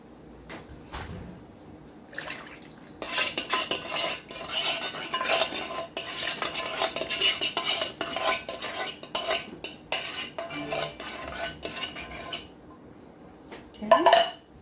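Coconut milk being stirred into a cassava cake mixture with a utensil scraping and clinking against a bowl, a busy run of close, rhythmic stirring between quieter moments.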